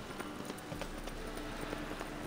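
Horse hooves clip-clopping at a steady trot in the video game The Witcher 3, a regular rhythm of soft hoof beats over a constant background wash of game ambience.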